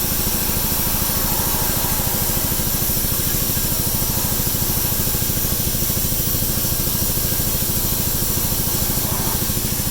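A sandblaster blasting paint and corrosion off metal parts, producing a loud, steady hissing roar with a constant mechanical drone underneath, close by and uninterrupted.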